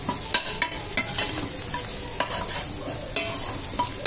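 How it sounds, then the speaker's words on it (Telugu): A spoon stirs tomato pulav in a frying pan, making rhythmic scraping strokes about twice a second over a steady background sizzle, close up with no voices. "ఇది అడుగంటకుండా ఇలా కలుపుతూ ఉండాలి."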